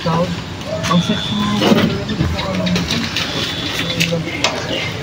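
A motorized tricycle engine rumbles steadily under close, continuous conversation, its drone masked by the voices and never standing out on its own.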